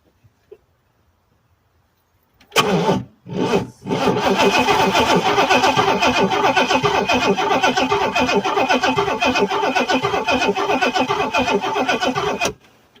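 An Oldsmobile Toronado engine running on two-cycle gas with oil mixed in cranks loudly for a moment and pauses, then cranks again and keeps turning over steadily for about nine seconds before cutting off abruptly.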